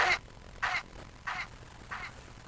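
A delayed synth hit repeats four times at even half-second spacing, each echo quieter and thinner as a built-in filter high-passes every repeat, fading away alone.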